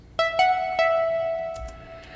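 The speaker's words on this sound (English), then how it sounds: "that pretty lead melody is being played by this retro pluck track" A bright retro pluck synth on a Yamaha MODX plays a few short notes that ring out and decay, a brief clean melodic phrase on its own.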